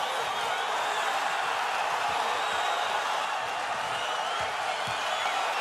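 A large boxing arena crowd roars steadily as it cheers on the tiring champion, a dense continuous wash of voices with no breaks, heard at a distance.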